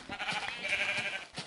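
A Minecraft sheep bleats in a short, wavering cry heard close and alone.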